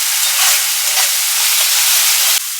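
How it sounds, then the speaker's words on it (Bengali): A spice paste of ginger-garlic paste with tomato ketchup and salt sizzles and hisses loudly in a hot pan, a dense continuous frying sound that drops slightly near the end, with no talking. "একটু টমেটো কেচাপ অ্যাড করলাম, একই সাথে নুনও অ্যাড করে ভালো করে কষিয়ে নেব।"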